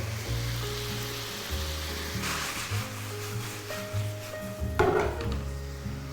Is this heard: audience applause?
no